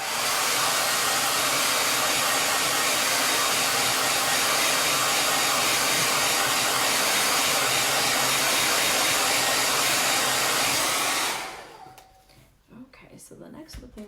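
A hair dryer blows on wet paint on a 10 by 10 canvas, a loud, steady rushing whir up close for about eleven seconds before cutting off abruptly, leaving faint handling noises.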